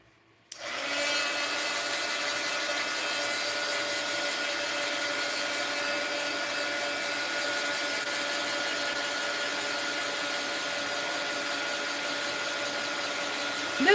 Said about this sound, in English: my heat gun and dry it